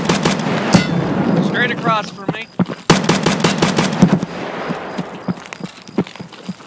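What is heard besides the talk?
gunshots in the video game Escape from Tarkov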